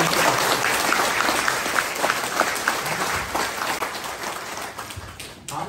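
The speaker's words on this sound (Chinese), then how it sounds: "再次掌声哈，我们谢谢台湾民政府" Sustained, dense applause from an audience after a talk at a Taiwan Civil Government event, steady and full for several seconds before tapering slightly near the end.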